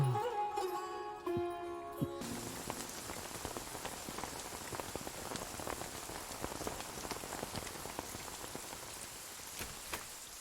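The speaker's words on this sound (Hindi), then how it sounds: "कितनी बारिश हो रही है, रुकने का नाम नहीं ले रही।" Heavy rain falls steadily and loudly, a dense, continuous hiss of drops on surfaces that carries on without a break after a brief stretch of music at the start.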